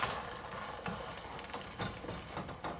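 A cheese omelette sizzles loudly in a frying pan as it is flipped with a spatula. The crackling hiss holds steady from start to finish, with faint scrapes of the spatula and no talking.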